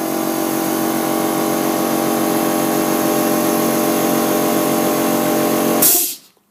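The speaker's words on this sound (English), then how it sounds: "That's my 3 CFM compressor running in the background." A 3 CFM air compressor runs steadily in the background, a continuous loud motor drone with mechanical whine that holds evenly before cutting off abruptly near the end.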